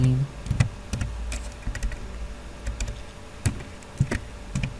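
Soft, close typing on a computer keyboard while entering code, with irregular key clicks and a few short pauses over a quiet room hum.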